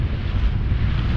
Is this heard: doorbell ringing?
no